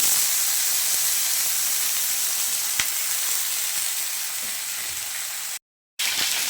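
Potatoes, pointed gourd and bitter gourd sizzle steadily in hot oil in a pan, a loud, close, continuous frying hiss with a brief gap of silence near the end.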